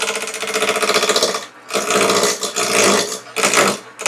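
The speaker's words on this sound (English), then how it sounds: "So I'm using a spindle roughing gouge." A wood lathe spins a sea urchin ornament blank while a spindle roughing gouge cuts, producing loud, continuous rough chattering bursts broken by brief pauses between passes.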